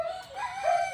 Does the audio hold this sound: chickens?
yes